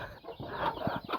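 A chicken clucks in a traditional Hmong hill village, a few short, low clucks close by over faint background noise.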